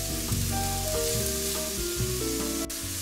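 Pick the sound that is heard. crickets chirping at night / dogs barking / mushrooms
mushrooms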